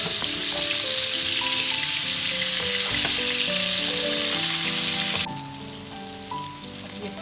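Beef chapli kebabs fry on a medium flame, giving a steady broadband sizzle for about seven seconds under a layer of melodic background music, with the level dropping slightly near the end.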